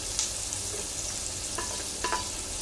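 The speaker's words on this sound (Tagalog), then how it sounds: "magigisa na tayo ng bawang sibuyas" Onion and garlic sauté in hot oil in a pan for pansit chop suey, a close, continuous sizzle and crackle with occasional stirring scrapes, heard alone.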